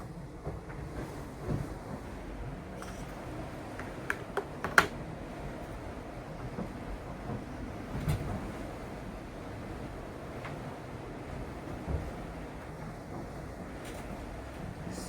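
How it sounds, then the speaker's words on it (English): Quiet, steady wash of water streaming past a sailboat hull at sea on an Atlantic crossing, with faint sloshes and occasional small knocks over a low constant hiss. "There's no noise other than the water."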